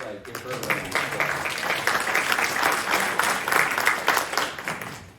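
Audience at an annual community association meeting applauding, a steady, even wash of many hands clapping throughout, moderately loud and fairly close, with no distinct pauses.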